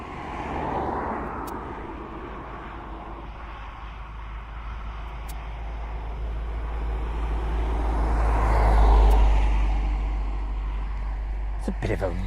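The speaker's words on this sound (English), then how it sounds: "It's a bit of a rumbling vehicle, wasn't it, eh?" A rumbling vehicle passes at East Midlands Airport, a deep low drone that swells to a peak and then eases off, heard from a distance while a person talks over it.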